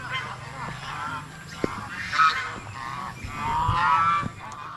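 Farm ducks kept behind a fence honk loudly in several nasal bursts, one after another, some close and some a little farther off.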